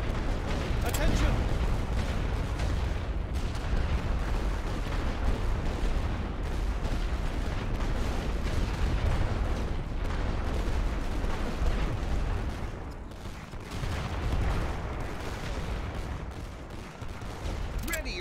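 Artillery and rifle fire from a World War I trench battle in The Great War: Western Front: a dense, continuous barrage of booms and crackling shots, loud and sustained throughout, with a voice shouting orders over it.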